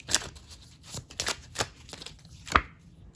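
Tarot cards being shuffled and cut by hand before one more card is drawn, giving several soft riffling bursts and a single sharper snap near the end, close and fairly quiet, with no talking.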